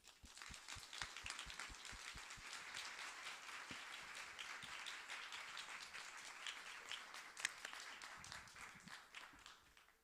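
Audience applause welcomes a speaker to the stage at a church youth worship service, with steady, dense clapping from a large room sustained evenly for about ten seconds.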